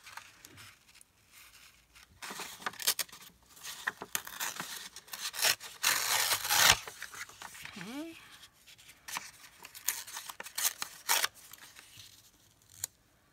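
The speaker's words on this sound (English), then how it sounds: "we're just going to go ahead and cut out a piece that will fit in this square" Scissors snip through a piece of paper being cut to size for a spring blossom junk journal, with several short close crisp cuts and rustles spread through a quiet room, no talking.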